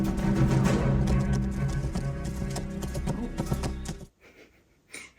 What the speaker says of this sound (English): His horse just took off.